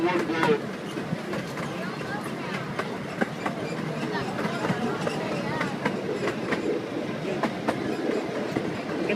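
Steady rumble of a zoo ride train in motion at Greater Vancouver Zoo, with rhythmic clacking of wheels on track, continuous and fairly close, with voices talking over it.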